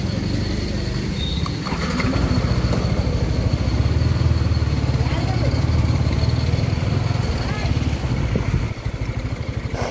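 Yamaha R15 v4 motorcycle engine running steadily and pulling away, a loud continuous low drone close by, with voices talking over it.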